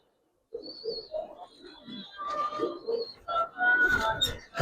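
Pigeons in a fancier's stock coo in a series of soft, low throaty calls close by, ending in a louder burst of mixed calls and rustling.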